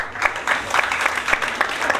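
A room of teachers at a Montessori training workshop claps together, a steady mid-level patter of many hands with slight surges, heard alone.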